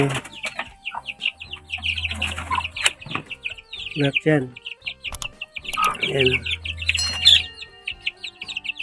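Backyard chickens and young chicks fed vitamin-laced water keep up constant high chirping, with deeper clucks rising at intervals and someone talking intermittently over them.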